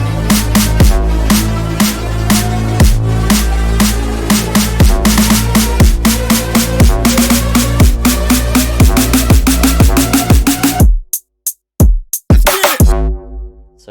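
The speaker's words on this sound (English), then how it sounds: "Then there's just the same crash as a transition element, as well as this slowly getting shorter, leading into the build-up" A crash cymbal marks the transition in a dense electronic track, cutting to a brief near-silent break with stuttering hits that then grow into a build-up. The music is loud and continuous, with no voices.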